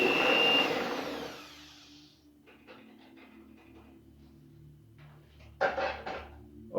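Mixer whipping 15 egg whites in a bowl: a loud, steady whirring motor that drops to a quieter hum after about two seconds, with a brief louder burst near the end.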